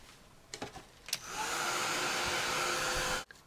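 A heat tool dries ink on a craft tag, first a few taps and handling clicks, then a loud, close, steady blowing whoosh for about two seconds before it cuts off.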